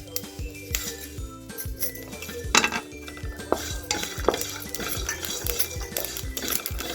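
Coriander seeds, sesame and peanuts dry roasting in a pan for tindora masala curry, with dry seeds rattling and popping against the metal and steady stirring and scraping clinks throughout, close up, with no talk.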